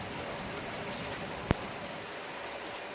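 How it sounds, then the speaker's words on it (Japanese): Heavy typhoon rain pours down steadily as a dense, even hiss that fills the whole stretch, with one sharp click or tap midway and no voices. "しかしすごい雨です。"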